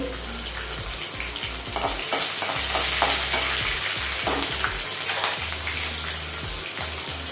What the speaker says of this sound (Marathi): हिरवी मिरची छान परतली का